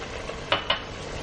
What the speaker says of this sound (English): And give that a good mix.